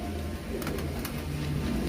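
Teddy pigeons coo softly and steadily at a pigeon market in Shahdara, Lahore, with low, continuous murmuring calls over faint background hum.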